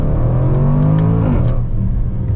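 The supercharged V8 of a used Range Rover Sport SVR in manual mode revs loudly and up close, with a rising roar that peaks and then eases off into a deep rumble.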